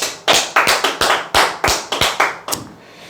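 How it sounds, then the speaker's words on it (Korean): A round of hand claps, about ten sharp claps at a steady, slightly uneven pace, loud and close, fading off at the end. "자, 박수 한번 치시죠."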